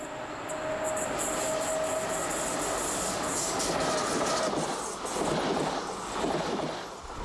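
An ICE 1 high-speed train runs on the steep Geislinger Steige incline, giving a steady, loud rumble of wheels on rail with rhythmic clickety-clack and a faint squeal of wheels, and no voices.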